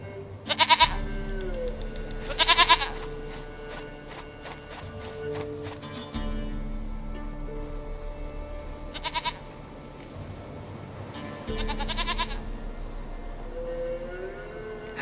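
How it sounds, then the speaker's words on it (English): Goat bleating in The Witcher 3: several loud, wavering bleats come at irregular intervals over a steady low game-world drone and faint musical tones. "Goat of mine, dearest, sweetest goat."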